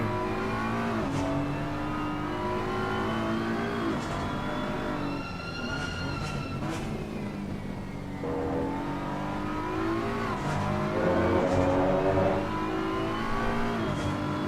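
A BMW GT3 race car in Assetto Corsa Competizione at Barcelona, its engine droning steadily with rising and falling revs through gear changes, loud and continuous throughout with no talk over it.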